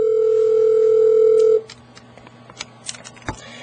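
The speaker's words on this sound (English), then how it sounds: "Now I'm going to dial the number" A Cisco UC500 VoIP telephone gives a steady dial tone that cuts off as the number 1500 is dialed, followed by a few short key tones and clicks close up with no talking.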